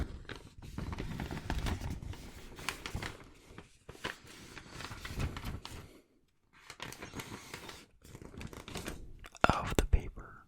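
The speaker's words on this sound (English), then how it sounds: "Some people just like the sound" Paper is handled up close, rubbed and crinkled in soft and rough bursts with brief silent gaps, under a quiet whispered voice.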